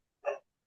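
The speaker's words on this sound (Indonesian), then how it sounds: "ini anjing saya lagi gonggong" A single short dog bark heard close by on a quiet line, one burst lasting under a quarter second with nothing else around it.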